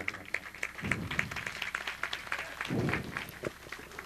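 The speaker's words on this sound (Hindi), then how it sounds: "आप लोग भी ताली बजाकर स्वागत करें हमारे स्वामी जी का" A crowd at a Hindu religious gathering, a Mahayagya and Ram Katha discourse, claps to welcome a swami, steady scattered applause running throughout with a few louder swells, fairly close and fuller at moments.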